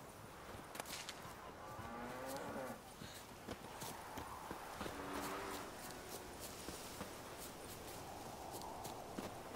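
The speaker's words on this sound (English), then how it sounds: "Look at the cow." A cow in The Witcher 3: Wild Hunt gives a couple of low drawn-out moos, mixed with clip-clopping hooves and soft footsteps.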